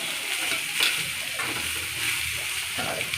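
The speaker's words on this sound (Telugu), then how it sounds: "ఈ క్యారెట్, బీట్రూట్ వేసుకోండి బాండీలోకి." Carrot and beetroot fry in a pan with curry leaves, giving a steady, even sizzle with faint stirring scrapes throughout, close and continuous with no voices.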